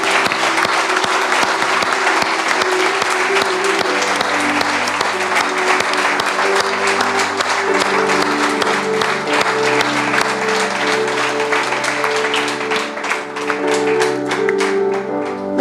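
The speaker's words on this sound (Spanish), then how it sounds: "un fuerte aplauso al Señor, démosle un fuerte aplauso al Rey de Gloria y Majestad" A church congregation breaks into loud, sustained applause with dense clapping throughout, backed by steady organ or keyboard chords.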